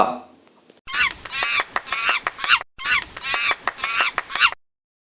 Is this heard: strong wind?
no